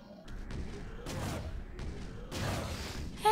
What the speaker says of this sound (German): Was ist denn mit diesen scheiß Kanonen hier?